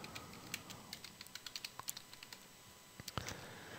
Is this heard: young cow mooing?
no